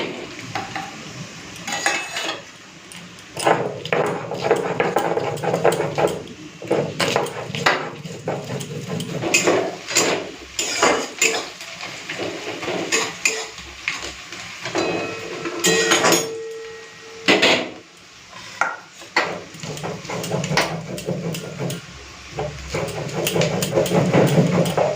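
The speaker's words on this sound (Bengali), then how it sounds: "ততক্ষণে আমি আদা রসুনটা বেটে নিই।" Ginger and garlic ground into paste by hand, a long run of rhythmic scraping, knocking and grinding strokes, loud and close, with brief pauses between bursts.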